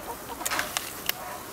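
Chickens in a coop give a few short, faint clucks over a steady background hiss, scattered sparsely across the moment.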